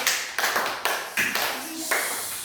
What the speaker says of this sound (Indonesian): Tepuk tangan untuk Abizar dan Hamdah.